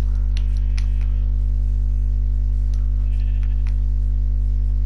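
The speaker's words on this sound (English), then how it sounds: "So many sheep, lol." Sheep in the video game Minecraft give a few faint, short bleats, one early and one later, nearly buried under a loud, steady electrical hum.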